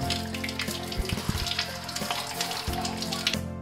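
Betel leaves are rinsed under a running tap, with a steady splashing stream of water and occasional soft clicks and knocks from handling, close and alone.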